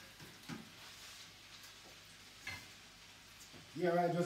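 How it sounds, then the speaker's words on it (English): Tomatoes sizzle faintly in a pan with saltfish for a Jamaican fry dumpling and saltfish dish, with a soft steady frying hiss, a few light stirring knocks, and a voice starting near the end. "now I will add my tomatoes"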